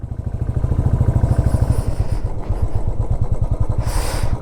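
A motorcycle engine idles close by with a steady, rapid low thumping pulse that stays loud throughout, during a roadside stop in Spiti Valley where bikes are being parked, with a brief hiss near the end.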